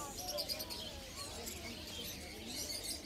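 Many small birds chirp and tweet continuously at a bird market in Souq Waqif, Qatar, a busy overlapping chorus at moderate distance, with faint voices in the background.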